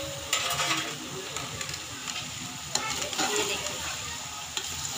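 Tomatoes, ginger-garlic paste, green chilies and spices sizzle and fry in a pan while being stirred, a steady crackle with scraping strokes throughout and a brief spoken remark over it.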